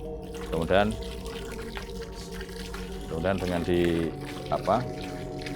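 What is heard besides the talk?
pouring prayed-over water into a pond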